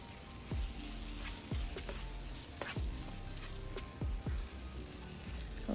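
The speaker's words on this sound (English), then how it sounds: "I'm just tossing, just trying to make sure it gets all through all of the okra and the tomato mix" Okra is tossed through a tomato mix in a sizzling pot, with faint frying crackle under a series of soft, spaced knocks and stirring sounds, and no talk.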